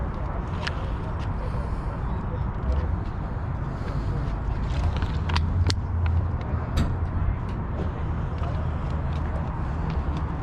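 A 1965 Mercury Comet Pro Tour car at an outdoor cars-and-coffee meet, its engine running with a steady, dense low rumble that holds level throughout, with faint crowd voices in the background.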